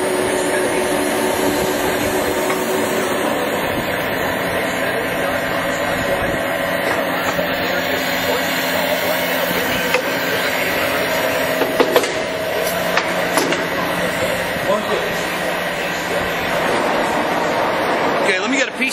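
A Monarch CM heavy-duty engine lathe, 24.5 by 48 inch, turns at 56 RPM with a steady mechanical hum and whir, close and continuous, with brief clicks near the middle.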